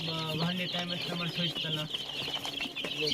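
Chickens cluck close by at a poultry farm, with a busy mix of overlapping calls and a voice talking underneath.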